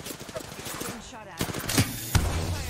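Charge rifle fire in a video game, several sharp, loud shots in quick succession amid a busy mix of game sounds, with a player's voice under it.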